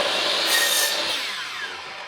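A power saw cuts through wood for a wooden lantern, giving one loud, continuous whine and rasp that tapers slightly toward the end.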